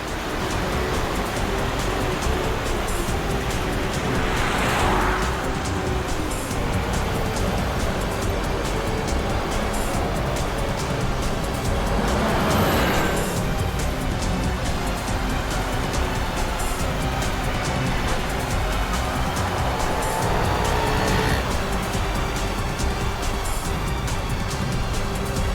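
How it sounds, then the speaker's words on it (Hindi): A car drives on steadily, its engine and road roar loud, constant and close throughout, with a few brief swells of rushing wind and no voices. "ये गाड़ी भी शिल्पा का पीछा कर रही है।"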